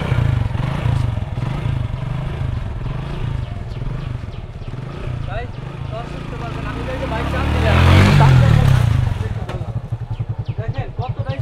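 A motorcycle being ridden and braked hard with a hydraulic brake: a steady engine rumble swells into a louder, rougher surge before settling back to an even idle-like throb, with voices faintly present.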